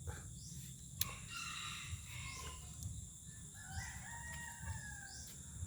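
A free-ranging rooster crows outdoors at moderate distance, over steady low rumble and faint insect chirring in the background.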